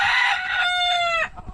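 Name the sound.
fighting roosters crowing and clucking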